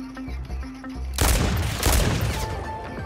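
Aftermarket Tyr sniper pistol gunfire in a video game: after a quiet moment, a loud sharp shot bursts out with a heavy echoing tail, followed by a second blast and lingering rumble.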